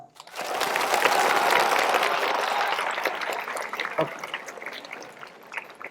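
A college audience at a motivational talk breaks into dense clapping that starts abruptly, holds steady for a few seconds, then thins into scattered claps and fades out.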